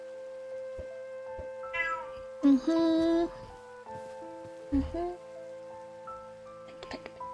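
A cat in the Minecraft video game meows several times in short bursts over steady background music and rain-like ambience, with a person talking intermittently.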